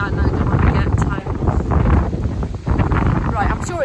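Wind buffeting a microphone outdoors on a blustery coastal day near St Ives, a loud, constant low roar with gusty swells and brief dips, talk faintly mixed in.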